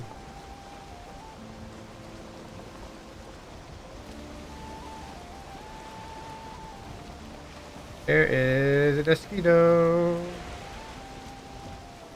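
Steady rain falling in the video game Valheim, a continuous soft hiss throughout, with a voice speaking briefly over it near the end.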